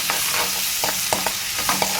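Ginger paste frying in oil in a pan and being stirred: a steady hiss of sizzling, broken by repeated scraping strokes of the spoon at a brisk, uneven rhythm, close up and without any talk.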